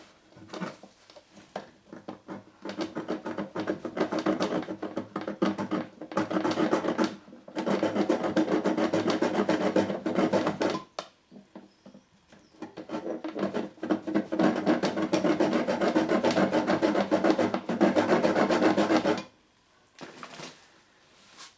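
A hacksaw rasps through a brass olive fitted on a pipe in short, rhythmic bursts of back-and-forth strokes, close and clear, broken by several brief pauses.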